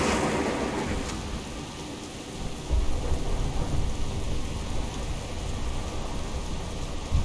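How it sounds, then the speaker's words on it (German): Thunderstorm ambience in the World of Warcraft tutorial: steady heavy rain hissing throughout with low rumbling thunder swelling from the middle onward, no voices over it. "Dieser Sturm überwältigt uns."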